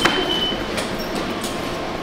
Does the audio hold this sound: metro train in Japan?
yes